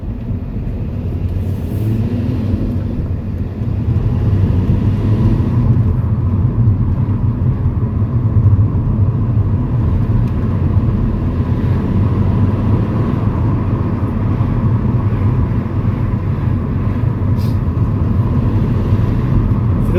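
An Alfa Romeo Brera, a cheap UK example that had sat unused for some time, drives along a road, heard as a constant loud low engine and road rumble throughout with no talking.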